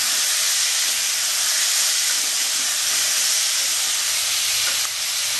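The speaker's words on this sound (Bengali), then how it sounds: "পটলটা আমি ভালো করে ভেজে নেবো।" Pointed gourd (potol) fries in oil with salt and turmeric, a dense, steady sizzle and hiss close up, continuous with no voices.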